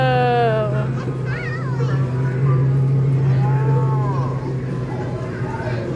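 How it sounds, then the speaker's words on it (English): A cow moos loudly and close at a farm-animal area of an Italian amusement park, a long low drawn-out call with children's voices chattering over it. "There goes the mama cow."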